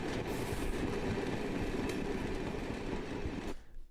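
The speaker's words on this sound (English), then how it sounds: "I go through my gigantic pack of train sound effects to find the one sound that will do it all" Steady train rumble with rhythmic rail noise and faint wheel squeal, loud and continuous for about three and a half seconds before cutting off abruptly, with no voices.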